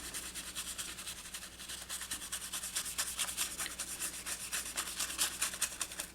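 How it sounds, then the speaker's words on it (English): A paint brush rubs loose gilding leaf flakes off a surface, producing a soft, rapid, scratchy brushing in steady strokes, close and quiet. "I'm just going to give it a little bit of a rub."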